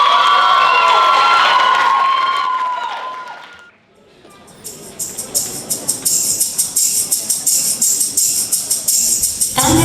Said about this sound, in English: please put your hands together and cheer our teens from Choral Team.